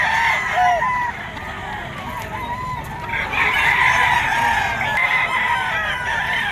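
A yellow-legged bull stag gamecock rooster crows and clucks close by, with other fowl calling faintly through the background of a busy bird market in Bocaue, Bulacan.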